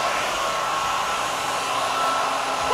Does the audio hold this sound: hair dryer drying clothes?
yes